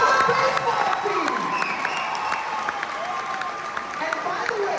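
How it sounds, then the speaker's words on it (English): A school crowd at a Kahuku Mayday event in New Zealand applauds and cheers for the baseball team, a steady loud wash of clapping with crowd noise mixed in, lasting throughout. "how about another round of applause for the baseball team?"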